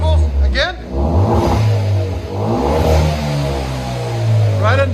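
A 2016 Hyundai Veloster Turbo with a Vibrant bottle resonator dual exhaust revs up in a few loud rising and falling bursts, close by, with someone talking over parts of it.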